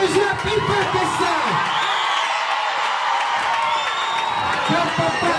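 A large crowd at an honouring ceremony shouts and cheers loudly and continuously, a dense roar of voices with whoops rising throughout.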